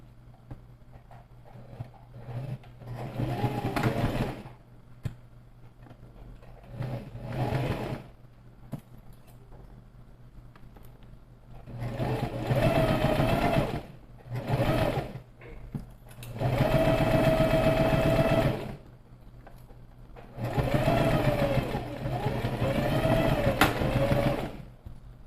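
A sewing machine stitches a zipper seam in several bursts of rapid mechanical whirring and needle clatter, some short and others several seconds long, separated by quiet pauses; close and clear.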